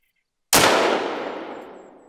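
A single loud, close gunshot from a Grelck Drilling Gun fired at a moose in a hunting video game, with a sharp onset and a long fading tail, heard alone after silence.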